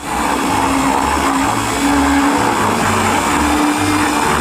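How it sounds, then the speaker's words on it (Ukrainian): A blender grinds eggshells with raw eggs and other ice cream ingredients, a loud, continuous motor whir with a pulsing, chopping texture that stays steady with no talk. "Добре, що вони перемелються у блендері"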